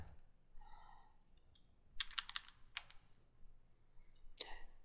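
Computer keyboard typing: a few faint, sparse key clicks come in a short cluster and then a single later tap, in a quiet room with soft background noise.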